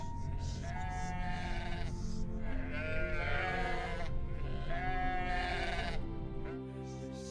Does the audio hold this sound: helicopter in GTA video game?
no